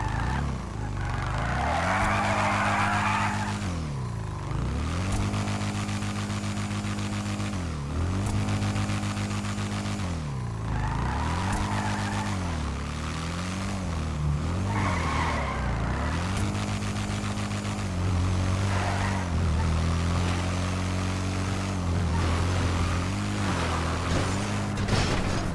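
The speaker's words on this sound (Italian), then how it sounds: "Adesso vi farò sentire il rombo del motore di questa nuova moto." A three-wheeled motorcycle engine in GTA 5 revs repeatedly, its whine rising and falling in pitch through gear shifts, loud and continuous, with occasional tire skids.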